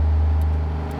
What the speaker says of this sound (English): we will get these random giant trucks driving through, delivering giant pallets of wood, and it gets so noisy hauling through this neighborhood